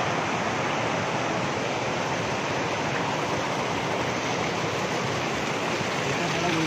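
Water pours heavily at Savatsada waterfall near Chiplun, Maharashtra, during the rainy season, a dense, loud, unbroken roar that fills the whole stretch.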